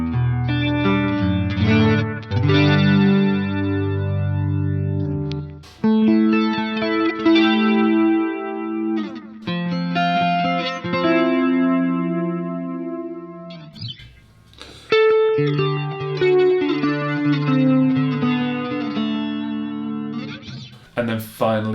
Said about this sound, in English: And then cranking the rate up to 12 o'clock, sounds something like this.